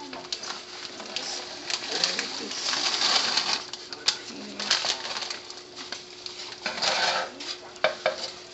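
A spoon scrapes and stirs a thick candy mixture in a pot in irregular swishing strokes, with a voice murmuring faintly in the background.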